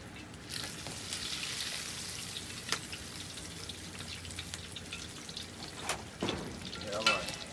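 Fish frying in hot grease over an outdoor fire pit, a steady crackling sizzle with scattered pops and spits that carries on throughout.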